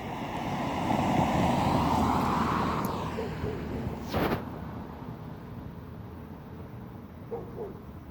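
A car rushes past outdoors, a broad whooshing swell that rises and fades over the first few seconds, followed by a brief sharp pass and lighter traffic noise amid wind.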